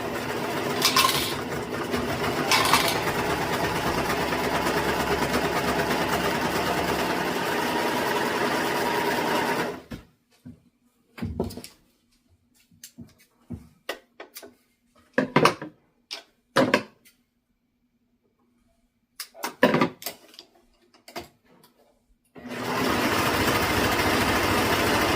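A serger sewing machine stitching fabric runs in two long continuous buzzing bursts, loud and close, separated by a quieter stretch of scattered clicks and handling noises.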